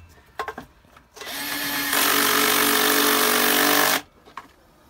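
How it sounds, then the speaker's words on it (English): A power drill drives bolts into a pool pump housing, whirring for about three seconds, revving up then holding a steady high whine, close by, with a few clicks before and after. "we're just using a regular screwdriver drill to get them flush"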